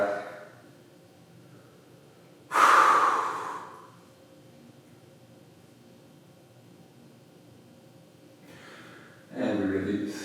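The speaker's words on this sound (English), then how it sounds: "Let's try one more hollow body breath." Two strong whooshing breaths taken during a hollow body breathing exercise in yoga, close and airy, separated by several seconds of quiet room noise.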